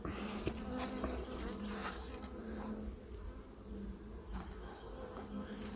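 Bees from a small swarm buzz around a hive feeder in late winter, a continuous droning hum from many insects close by, steady in level throughout with no voices.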